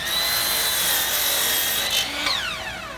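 Power saw cutting about three-quarters of an inch off the end of a wood board, a loud continuous whining cut that shifts pitch as the blade finishes and spins down.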